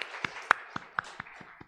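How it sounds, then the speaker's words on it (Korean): Claps from a Sunday church service congregation, sparse and fairly faint, about eight separate claps in a loose, uneven rhythm. "우리 하나님께 찬양과 영광의 박수를 올려드리겠습니다"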